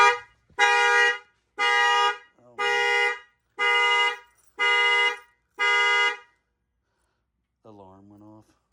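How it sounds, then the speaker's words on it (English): Alarm on a 2016 Nissan Pathfinder, set off by keys, blaring seven loud, evenly spaced horn honks close by before falling silent, followed by a short spoken remark. "the alarm went off"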